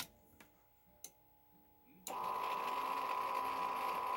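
Hy-Gain Ham IV antenna rotator motor starting after brake release, first a few faint clicks, then a steady, fairly loud whirring drone that continues without a break.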